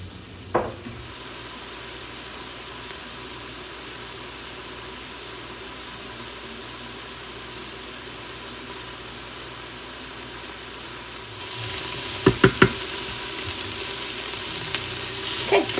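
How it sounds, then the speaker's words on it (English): Frozen peppers sautéing in an Instant Pot give off a steady, soft sizzle throughout, growing brighter and louder near the end, where a few sharp clinks of a utensil stirring against the pot stand out. "Okay, as you can see, these are sauteing up really nice."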